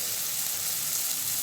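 Spice masala frying in a pan while being sautéed for a curry, a steady soft sizzle and hiss running evenly throughout with no talk.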